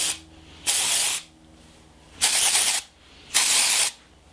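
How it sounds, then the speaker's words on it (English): Dry shampoo sprayed onto hair in three separate hissing aerosol bursts, each about half a second long, loud and close, with quiet pauses between them. "I love this dry shampoo, it's so good."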